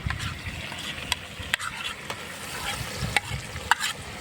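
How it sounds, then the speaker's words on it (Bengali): Onion paste and yogurt frying in a pan for Bangladeshi prawn bhuna make a soft, steady sizzle broken by several sharp spoon scrapes and taps as the mixture is stirred. "এবার আমি পেঁয়াজ বাটা আর দইটা দিয়ে দিচ্ছি।"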